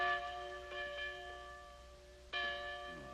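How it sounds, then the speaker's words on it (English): A courthouse bell in an old Western setting rings out clearly with a few resonant strikes, each leaving a long sustained hum, with a stronger stroke near the end. "Courthouse bell."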